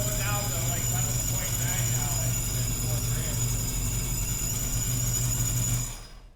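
A TorqStorm supercharged Impala engine runs steadily at raised revs, a loud constant drone with a high whine over it, then cuts off sharply at the end; voices are faintly present.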